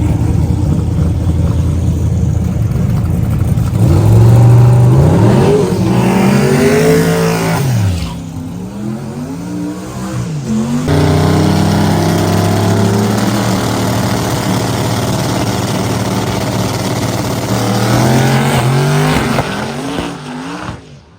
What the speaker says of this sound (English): We are racing Stephen Smith in the Mustang